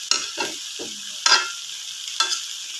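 Potatoes and eggs sizzle in a frying pan while a utensil stirs and scrapes in a few distinct strokes, close and clear, with no talking.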